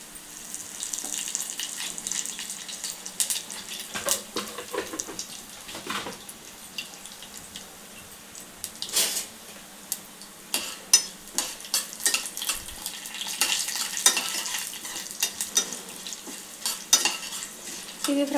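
Mustard seeds, cumin, urad dal, chana dal and curry leaves frying for alam chutney, a faint crackling sizzle with sporadic pops and spoon stirring scrapes, no voices.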